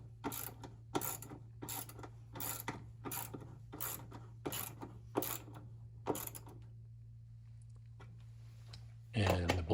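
A ratchet tightens bolts on a recirculation pump of a GE GTW680BSJ1WS top-load washer, about a dozen evenly spaced sharp clicks close up over a steady hum, then a pause and a louder clatter.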